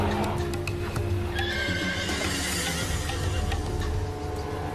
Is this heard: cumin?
no